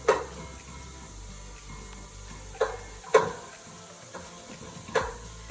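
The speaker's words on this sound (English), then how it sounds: "So they're cooking away and I'm just mixing them around the pan" Vegetables sizzle gently in olive oil in a pan, with a faint steady fry beneath a few sharp scrapes and clacks of stirring spaced several seconds apart.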